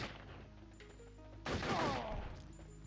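Enemy assault rifle fire in Turok 3: Shadow of Oblivion, a quick burst of shots erupting mid-clip over low ambient game sound, fairly faint overall.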